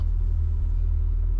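Classic rally car crawling at about 15 km/h during an Alpine regularity rally, a low, steady engine rumble heard from inside the cabin, constant and even with no revving.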